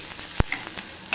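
Gram flour batter sizzles and crackles as it is stirred into onions and garlic already fried in a pan, a steady low hiss with one sharp thump and a few soft scraping clicks, heard close with no talking.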